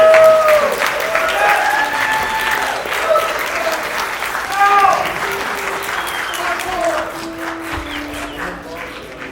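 Audience applause after a live performance, sustained clapping from a crowd for several seconds, fairly loud and even, with some voices in the mix.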